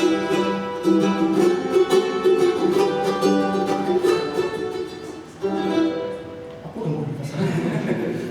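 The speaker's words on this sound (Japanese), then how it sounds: "これロンロコという、 ちょうど間の楽器なんです。" A ronroco, a newer Andean string instrument pitched between the low-range instruments and the high charango, played live at a lobby concert, with sustained strummed chords ringing steadily throughout, a brief dip near the end before another strum.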